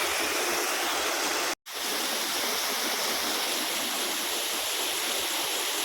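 Malampuzha waterfall at Anakkal pours in a steady, loud broadband rush of falling water, continuous and close, broken only by a momentary dropout near the start.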